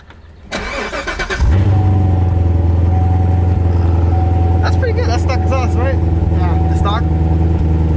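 A Chevrolet Corvette C7 Z06 fires up with a starter whirr and a loud bark, then settles into a deep, steady, rumbling idle close by, with people talking briefly over it.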